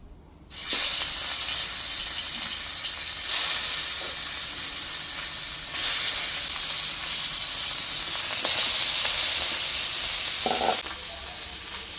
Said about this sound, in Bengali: এখন বাকি মাছগুলি দিয়ে দেব।